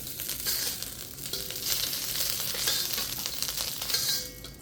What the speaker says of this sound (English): So we'll give that another quick stir fry.